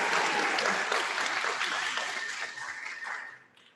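Audience applause at a school speech and debate awards night, a dense wash of clapping with a few chuckles that gradually thins and fades out near the end.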